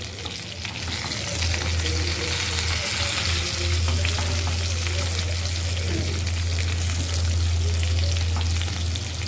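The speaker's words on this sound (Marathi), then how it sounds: "थोडंसं हलवायचं चारी बाजून त्या शिजल्या जातील" Stuffed capsicums fry in a pan with a steady, continuous sizzle, while occasional scraping stir sounds break through close up; no voices are heard.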